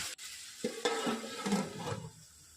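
Chicken biryani masala fries in oil and is stirred in a pot, giving a quiet sizzle with a few scraping strokes and a brief knock at the start.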